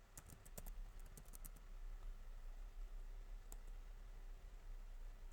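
Keys clack on a computer keyboard as a password is typed at a Linux terminal: a quick cluster of close, light clicks at the start, then a single isolated tap a few seconds later over steady background hum.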